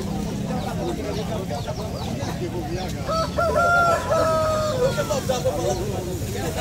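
Chickens and roosters at a poultry fair in Palmeira dos Índios, Alagoas, cluck and crow over a busy market hubbub, with one rooster crowing clearly in the middle and people talking throughout.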